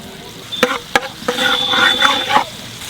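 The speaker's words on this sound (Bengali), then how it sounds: "একটু রসুন কুচি দেবো" Chopped garlic dropped into hot paya soup broth gives a short burst of sizzling and bubbling, preceded by a couple of sharp utensil taps, close and fairly loud for about a second.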